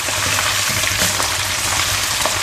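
Sun-dried food frying in hot oil, a steady close sizzle with crackling pops running throughout, no voices.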